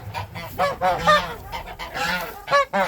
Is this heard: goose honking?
yes